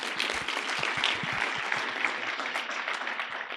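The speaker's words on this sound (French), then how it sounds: "Et nous aurons aussi Raja Chatia, qui vient d'arriver, on peut l'applaudir." Audience applause welcoming a guest arriving at a conference panel, steady dense clapping throughout, moderately loud and close, with no talk over it.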